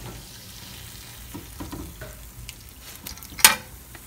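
Sponge pancakes frying in a pan make a quiet, close sizzle with soft utensil scrapes as they are loosened, then a sharp click near the end.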